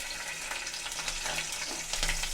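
A pinch of hing, a dried red chilli and ginger garlic paste fry in hot oil for a bhindi dish, giving a steady, close sizzle with light stirring scrapes and no talking.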